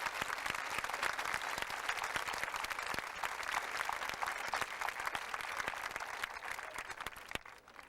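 Sustained applause fills a high school graduation hall after a list of honor graduates is read, many hands clapping steadily at an even level throughout with no voices on top.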